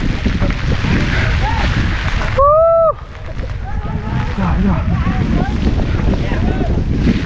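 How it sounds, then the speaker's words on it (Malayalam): Monsoon wind and rain buffet a trekker high on Harihar fort, a loud, continuous rushing roar that pounds the microphone, briefly broken by a short tonal whistle before the gusting resumes. "എന്താ മഴയും നല്ല മഴയും പെയ്തിട്ട് കാറ്റും പിടിക്കുന്നത്"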